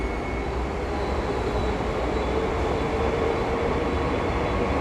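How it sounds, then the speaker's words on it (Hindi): Train at a station in South Bombay, a steady loud rumble of rail cars with continuous low-end roar and a faint high whine throughout, no voices. "6:14 को ट्रेन आने वाली है"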